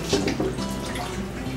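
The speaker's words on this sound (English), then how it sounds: "I always like to wash the meat before I season it." Water runs steadily from a kitchen tap while raw chicken is rinsed before masala seasoning, a continuous close splashing wash with no voices.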